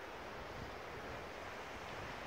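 Irish Sea waves at Holyhead in North Wales make a steady, faint wash of surf mixed with wind rumbling against the microphone, with no voices.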